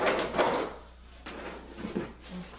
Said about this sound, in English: I pull my drawers out, it gives me a way to